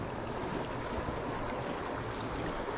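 Small creek water flowing steadily at close range, a continuous broadband rush and babble during trout fishing for rainbow trout in Pennsylvania, with no talk over it.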